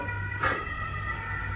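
A siren sounds outside while it rains, its tone sweeping briefly and faintly from a distance over a steady low hum.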